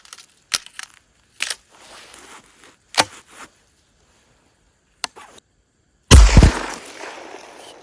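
A Stoeger M3000 shotgun fires once in -50 °C frost: a single loud, sharp blast near the end that rings out briefly, preceded by scattered faint clicks and handling noises.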